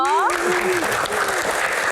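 Applause rises from a live audience on an Indonesian evening variety show, welcoming a panelist; steady clapping fills the clip while a voice talks over it.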